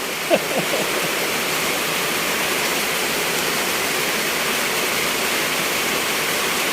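Heavy downpour sending floodwater rushing into a house, a loud, constant roar of pouring and running water that holds steady throughout with no voices.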